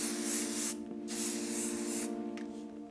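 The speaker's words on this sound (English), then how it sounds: "So we're gonna take a little bit of hairspray" Hairspray hisses onto hair during an updo in a few close, sharp aerosol bursts separated by short pauses.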